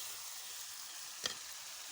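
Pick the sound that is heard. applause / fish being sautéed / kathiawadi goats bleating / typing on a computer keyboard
fish being sautéed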